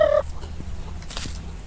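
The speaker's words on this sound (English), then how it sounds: "Here comes the little chickens," A turkey-like gobble from farm fowl opens sharply and close, then gives way to low, scattered clucks and rustling over a steady background hum.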